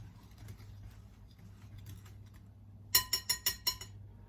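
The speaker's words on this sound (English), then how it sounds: "I'm going to give that a good mix with a whisk." A whisk stirs dry ingredients with substitute sugar in a bowl, quiet faint rubbing at first, then a quick run of about five light metallic clinks against the bowl.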